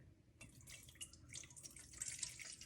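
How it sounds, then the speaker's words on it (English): Lukewarm water pours into a bowl on a kitchen scale for bread dough, a faint, close trickling and splashing that builds slightly over a few seconds. "let's add 300 grams of lukewarm water"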